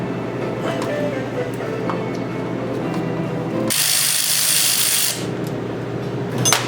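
A ratchet wrench turns out the tail housing bolts on a Tremec TKO600 five-speed transmission with quick mechanical clicking, then a louder burst of harsh scraping noise for over a second, close and with no voices.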